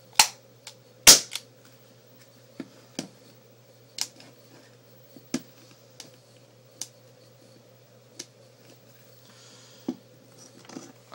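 A Mac C11 airsoft gun fires a string of separate sharp pops at irregular spacing in a quiet room, with a steady low hum underneath.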